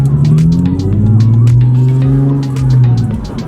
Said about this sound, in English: The fact that this is like a real car now and we're driving with full interior is insane.